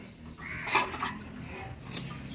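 A blackened cooking pot for khichuri is set down on a kitchen stove, making two close metallic clunks a moment apart against quiet room sound.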